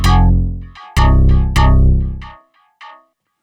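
FM synth donk bass with a metallic pluck attack, three loud punchy notes followed by quieter metallic repeats from a dub delay trailing off into silence.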